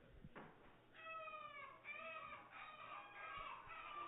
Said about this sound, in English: Lot 77, 1-year-old bantam rooster.